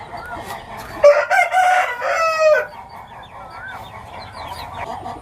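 A heavy Peruvian cross breeder rooster, about seven kilograms, crows once loudly and close, a drawn-out call lasting about a second and a half, with softer clucking and faint farmyard noise before and after.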